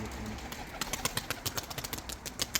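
White pearl pigeons in a coop, heard as a series of short sharp flutters or wing claps repeating at a quick uneven rhythm over a low murky background, fairly faint and close.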